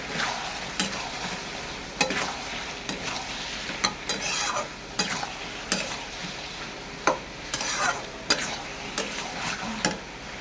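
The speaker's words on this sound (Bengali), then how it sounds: "জিরে ধনে গোলমরিচের গুঁড়ো দিয়ে দেবো কষে নেবো আবার এইভাবে কষে নেব" Spices with cumin, coriander and black pepper powder being stir-fried for a pointed gourd and paneer dish: a steady, close sizzle broken by repeated sharp scrapes and clinks of a spatula against the pan, with no talking.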